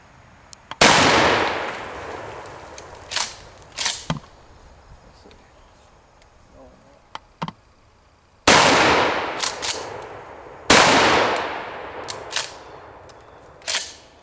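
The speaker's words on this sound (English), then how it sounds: "We're going to take a shot at this cinder block." Remington 870 tactical shotgun fired outdoors at a cinder block: four loud booming shots spread across the span, each with a long decaying echo, plus a few smaller clacks in between.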